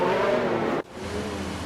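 A Ferrari race car engine in a racing game, idling and rising in a steady drone on the starting grid, then cutting abruptly to a lower, quieter hum.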